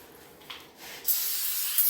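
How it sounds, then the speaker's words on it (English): Brake cleaner bursting from an aerosol can during a metal dog door repair on a cold day: a sharp, loud continuous hiss starting abruptly after a brief quiet moment, with a short preceding puff. "get your favorite brand of brake clean there"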